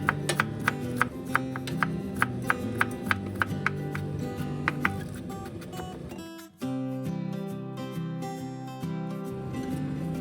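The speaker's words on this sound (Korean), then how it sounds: "껍질은 벗기고 먹기 좋게 아주 잘게 다져주세요" A knife chops peeled carrots very finely on a board for a fried-rice accompaniment to kalguksu, giving a quick, steady run of sharp taps for about six seconds, then a pause and a denser, busier stretch of cutting with no talk.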